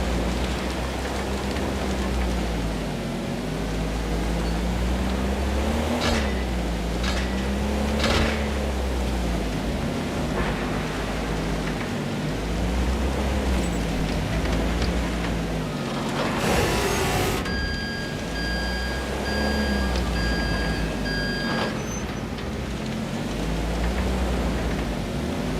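Steady, dense rain falls on a night-time shipping dock in a video game, a continuous hiss with a low droning hum, a few sharp taps and a brief electronic tone partway through.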